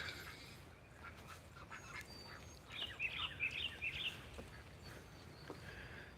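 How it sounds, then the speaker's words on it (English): Birdsong on a mountaintop in a Kentucky national forest at a morning barnyard: a short burst of several high chirps and calls midway through, moderately close, over a steady outdoor background with no talk. "Stand and listen to the birds"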